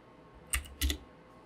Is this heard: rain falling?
no